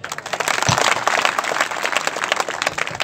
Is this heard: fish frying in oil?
no